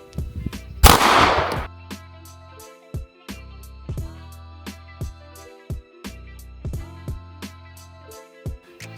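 A single sharp, loud handgun shot cracks early during a tap-rack-shoot malfunction-clearing drill. It is followed by a series of lighter, evenly spaced clicks and knocks over a steady musical tone.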